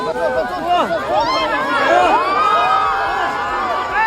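A dense, noisy crowd pressing around a celebrity and bodyguards, full of excited shouts, screams and overlapping voices, loud and chaotic throughout.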